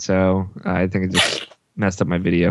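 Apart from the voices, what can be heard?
sneeze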